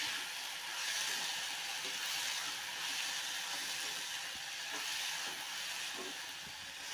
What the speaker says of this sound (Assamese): দেখিছে লৰাই আছোঁ মই ভাজি।